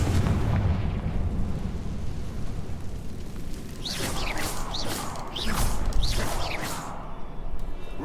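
A Confringo fire spell cast in the Hogwarts Legacy video game, a booming blast followed by a run of swooping, whistling magical bursts and crackles over low rumbling battle noise, with no talking.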